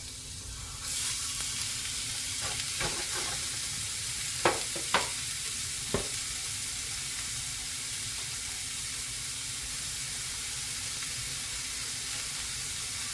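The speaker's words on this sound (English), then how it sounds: "first thing we need to do is brown 1 pound of ground beef" One pound of ground beef browning in a pan, with a loud, steady sizzle throughout and a few sharp utensil taps and scrapes near the middle, no talking.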